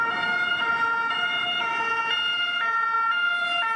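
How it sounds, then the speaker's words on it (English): A two-tone French emergency siren alternates steadily between high and low pitches, loud and continuous, with faint road traffic underneath. "Unless you're wondering what a French siren actually sounds like now."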